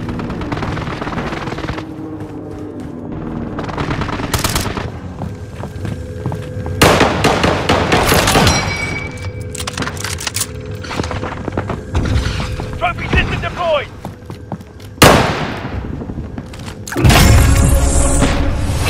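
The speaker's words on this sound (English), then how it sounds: "Allied precision airstrike incoming." Precision airstrike explosions in Call of Duty Warzone on the Caldera map: a run of loud booms and blasts hits at intervals, mixed with rapid gunfire-like cracks and game voice callouts.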